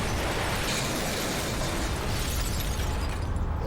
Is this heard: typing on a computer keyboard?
no